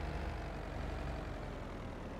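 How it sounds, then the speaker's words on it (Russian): A small vineyard tractor in Farming Simulator 22 runs with a steady, low, even engine drone, quiet and unbroken, with no talk over it. "совсем уже он игрушечный какой-то тракторок"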